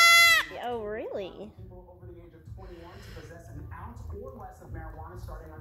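Newborn baby goat bleating while taking a bottle for the first time, one loud close wavering bleat at the start followed by quieter snuffles and a few softer bleats, with people talking nearby.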